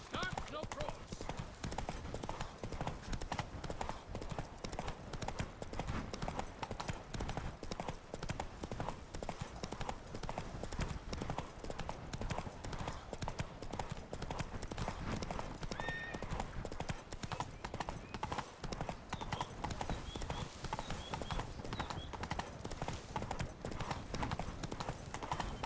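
Continuous rhythmic hoofbeats of a horse galloping in The Witcher 3, loud and close throughout, with brief voices breaking in at moments.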